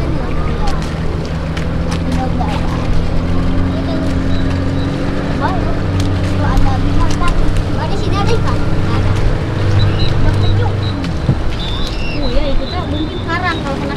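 A boat's motor drones steadily and close at Pangandaran as it heads toward a white-sand beach, with gusty wind buffeting the microphone and people talking over the engine throughout.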